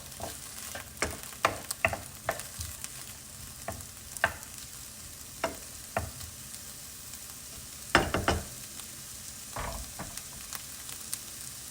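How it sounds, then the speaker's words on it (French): Onions frying in oil in a pan, a steady soft sizzle broken by sharp crackles and spatters, with a louder burst of popping near the end; no voices. "je vais aller laisser les oignons frire 4 minutes"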